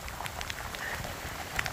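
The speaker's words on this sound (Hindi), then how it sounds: "बहुत ज़ोर से बारिश हो रहा है, और हवा तूफान भी चल रहा है एकदम साथ में।" Heavy rain lashes down with wind in a mountain setting, a dense, steady hiss of drops hitting surfaces with small patters on top, heard briefly and close.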